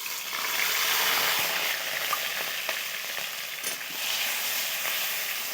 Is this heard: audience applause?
no